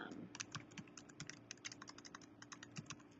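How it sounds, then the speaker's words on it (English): Answers typed on a computer keyboard for an online vocabulary quiz: quick, irregular key clicks in small bursts, faint and close, with no voices. "type your answers"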